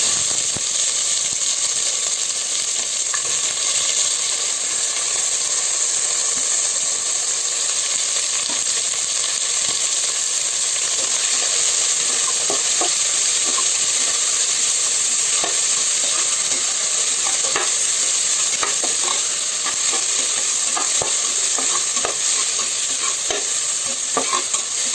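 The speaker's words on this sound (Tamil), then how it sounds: "வெங்காயம் நல்லா வதங்கட்டும்." Onions sautéing in a pan for vegetable rice give a continuous loud hiss and crackle, with scattered scraping taps of a spoon stirring, steady throughout.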